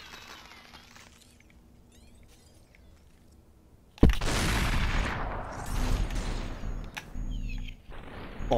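A shotgun blasts in the slow-motion shooter game Superhot: a loud, sudden crack with a broad burst that rings on for several seconds after a quiet stretch, with faint game ambience beforehand.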